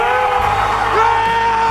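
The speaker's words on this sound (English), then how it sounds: "I find that a primal scream is the only satisfying release." A single drawn-out primal scream from one person, loud and strained, rising and wavering in pitch for under two seconds with nothing else over it.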